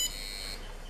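High electronic beeping from an RF radiation meter's alarm, a sharp tonal squeal at the start that cuts off partway through, leaving a low steady hum.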